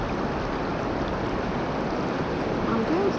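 Rough river water surging into the sea on a wild Welsh coast, a steady loud broadband rush with no breaks, close by and filling the whole short stretch alone.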